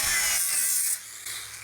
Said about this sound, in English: What are you doing right now? Sanding?